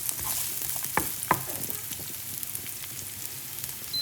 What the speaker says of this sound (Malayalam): എണ്ണ ചൂടായി വരുമ്പോഴത്തേനും നമുക്ക് വെളുത്തുള്ളി ഒന്ന് വഴറ്റിയെടുക്കാം